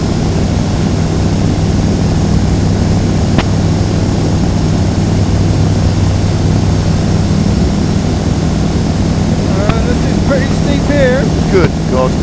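Steady droning hum of a light propeller aircraft heard from inside the cabin during a flight toward Mold, constant and loud throughout, with brief faint voices near the end.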